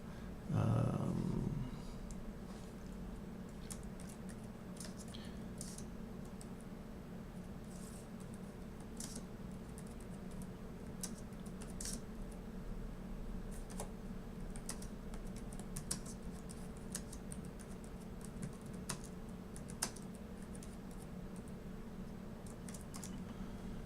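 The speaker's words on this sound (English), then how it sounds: "let me type in what I'm saying" Quick, steady typing on a computer keyboard, dense key clicks running nonstop for over twenty seconds, close and fairly quiet, after a brief louder bump at the start.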